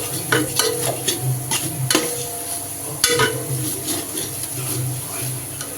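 Ginger garlic paste sautés in a pan, with a soft sizzle under repeated scraping and clinking of a spoon stirring against the metal, close and moderately loud.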